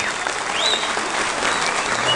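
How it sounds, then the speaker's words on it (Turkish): Steady, dense applause from an audience at a village association's cultural evening in Erzurum, honoring Mustafa Gümüş, with a few faint whistles above the clapping. "Sayın Mustafa Gümüş'ü güçlü bir şekilde bir kez daha alkışlayalım."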